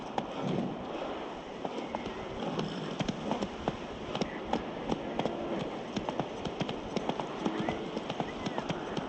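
Horse hooves galloping in The Witcher 3, a steady run of clip-clop beats over a dense outdoor game ambience, moderately close and continuous throughout, with a voice heard briefly.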